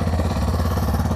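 A 2022 Kawasaki KLX 230SM SE motorcycle engine idles close by just after starting, a steady low pulsing thrum with no talk.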